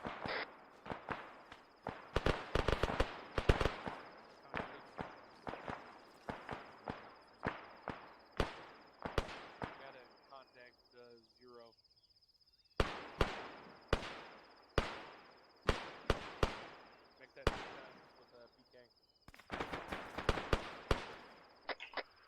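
Gunfire in the ARMA 3 military video game during squad training: sharp, distant-sounding shots crack in irregular bursts and single reports, with a brief lull before firing resumes.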